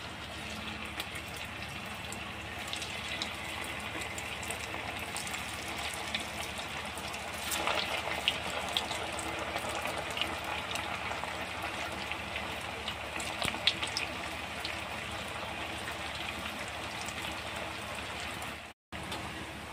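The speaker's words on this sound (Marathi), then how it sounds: "छान असा सोनेरी रंग येईपर्यंत आपल्याला असंच तेलामध्ये तळून घ्यायचं आहे." Batti dough balls fry in hot oil over a slow-to-medium flame, giving a dense continuous hiss and crackle like steady rain, constant in level for about twenty seconds with one brief dropout near the end.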